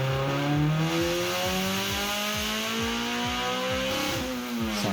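Tuned Honda Civic EG sedan race car on a dyno, its engine revving hard in loud, repeated sweeps up and down the rev range with a rasping exhaust note, close and steady throughout.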